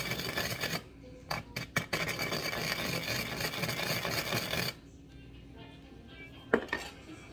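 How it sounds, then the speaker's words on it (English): A whisk scraping and rubbing briskly around a bowl of sugar and salt, a dense gritty scratching for several seconds broken by a few clinks, then quieter with one more knock. "Now, use this whisk, make a well in the middle of it."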